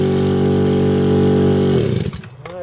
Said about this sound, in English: I'm going to turn it over while I smell the exhaust